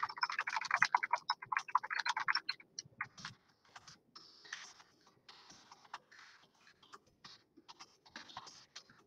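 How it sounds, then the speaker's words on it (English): Fingers typing on a computer keyboard in rapid clicking bursts, busiest at first and then sparser and softer, close and quiet, with no one talking. "I'm just going to go ahead and type this out"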